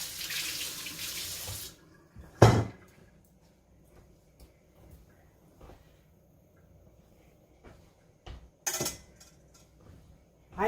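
Hands are rinsed under a running kitchen tap, a hissing gush of water at the start followed by a short splash, then quiet kitchen clatter and another brief burst of running water.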